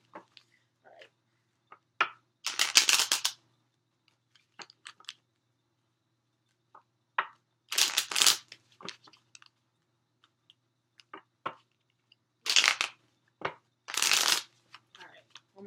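A deck of cards is shuffled in three separate bursts of quick riffling, each lasting about a second. Light clicks and handling noises fill the quieter gaps, all close to the microphone.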